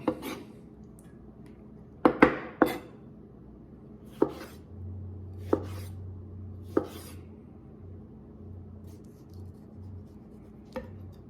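A slightly dull kitchen knife chops a tomato on a cutting board while a breakfast burrito is being made: a scattering of crisp, separate knocks against the board, close by and moderately quiet, with pauses between cuts.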